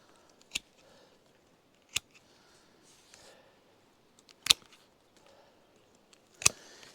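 Pruning shears snip fruit tree branches: four sharp, close cuts spaced a second or two apart, with faint rustling of branches between them and no talk.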